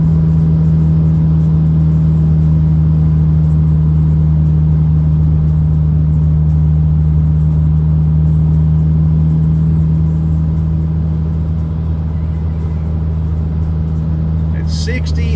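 Steady, loud drone of a Mini Cooper R56 engine and exhaust cruising in sixth gear at about 60 mph and 2,500 RPM, a constant low hum heard from inside the cabin, with a voice talking over it.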